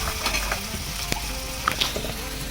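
Chopped onion sizzling and frying in a pan, a close, steady crackle with a few sharp pops and occasional stirring, no voices.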